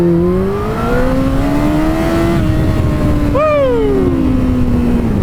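A Kawasaki ZX-14R (ZZR1400) sport motorcycle revs hard while accelerating from standstill toward 60 mph in first gear, its engine note climbing steadily and loudly, then rising sharply again near the end, close and unbroken.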